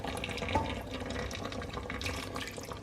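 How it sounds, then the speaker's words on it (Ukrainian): Salted water pours steadily into a pressure cooker over pieces of rabbit meat, making a close, continuous splashing trickle for a few seconds with no talking. "Додаю трошки ще підсоленої води щоб було в чому тушитися."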